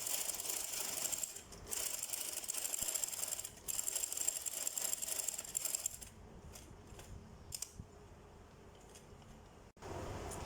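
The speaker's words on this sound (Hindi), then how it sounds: "अगले कट पे आके रोकते हुए मशीन को फिर इस तरफ को 2 टांके और फिर इस तरफ" A sewing machine stitches fabric for a puff sleeve, running in a fast rattling mechanical whir for about six seconds, then stopping and giving a few short bursts, quiet and close.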